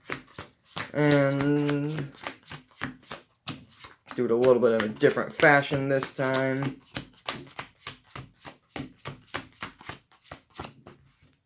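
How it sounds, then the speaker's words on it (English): Pile shuffling a deck of trading cards, a long run of quick, crisp card slaps dealt one after another in a steady rhythm, with a person talking partway through. "So I'll do one more quick pile shuffle."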